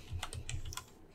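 Fingers tap a handful of quick keystrokes on a computer keyboard, soft close clicks in a short, slightly irregular burst.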